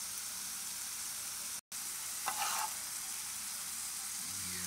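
Steak sizzles in a hot pan beside shrimp for fajitas, a steady quiet frying hiss broken by a brief gap and a sharper flare of crackle as the meat is flipped.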